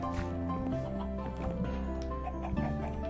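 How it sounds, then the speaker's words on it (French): Chickens in the Minecraft video game clucking in short, scattered bursts near and far, set against a steady tonal game soundtrack. "Il y a des poules qui pondent des œufs."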